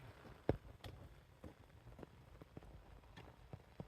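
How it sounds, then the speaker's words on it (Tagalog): Rain patters steadily with scattered sharper drips tapping on a surface, fairly faint and close, no voices. "Umuulan guys. Hmm. Kita na umuulan."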